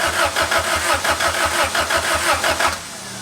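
A turbocharged H22 engine in a Honda Civic cranks with a rapid, rhythmic starter churn for nearly three seconds, loud and close, then falls quiet without catching.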